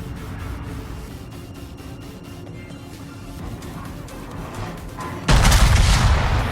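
Naval guns fire from the Teng She warship in World of Warships, a steady low rumble of battle noise that breaks into a sudden loud, booming salvo near the end.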